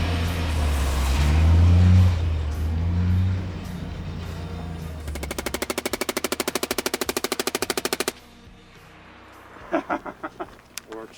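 A belt-fed machine gun being tested in Montana fires one sustained rapid burst of evenly spaced loud shots for about three seconds after a stretch of rumbling noise, followed by scattered clicks and handling sounds.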